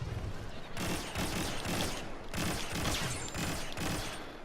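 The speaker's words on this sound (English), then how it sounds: "I switched to my infiltration mode where I get the submachine gun" A submachine gun firing in Star Wars Battlefront 2: loud bursts of rapid automatic fire in about four sustained volleys, separated by brief pauses, close and dominant.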